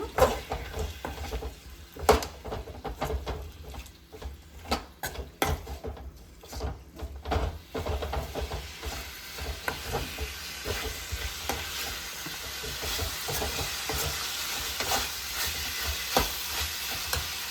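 Chicken tossed with a spoonful of soy sauce in a hot pan for spicy pepper chicken: the utensil scrapes and knocks irregularly at first, then a steady, close sizzle builds and fills the rest, with no voices.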